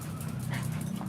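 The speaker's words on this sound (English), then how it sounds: "Stop. Crazy dog." A dog pants rapidly up close, with soft whimpering mixed into the quick, steady breaths during a brief, quiet moment.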